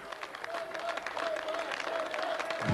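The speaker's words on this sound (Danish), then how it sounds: "Ja, så får Fetterlein en klapsalve" Applause for athlete Fetterlein at the 1999 Tele Danmark Superstars competition: a steady patter of crowd clapping under a faint sustained tone, with a commentator's voice over it.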